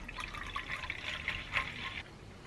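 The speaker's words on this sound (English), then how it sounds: "So let's put in 2 litres of this liquid" White vinegar pours steadily into a spray bottle, a continuous close trickle and splash of liquid lasting a couple of seconds with no talking.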